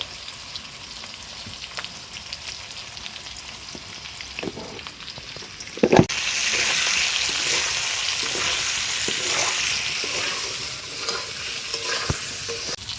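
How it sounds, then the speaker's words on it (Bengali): Potatoes with salt and turmeric fry in a pan in a homestyle chicken-and-potato dish. A quiet stir and clatter gives way to a loud, steady sizzle with occasional utensil knocks. "আলুগুলো এখন ভাজা হয়েছে লাল লাল করে।"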